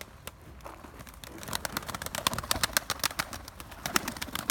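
Pet pigeons coo nearby amid rustling and scuffling, with sharp flapping or tapping sounds scattered throughout.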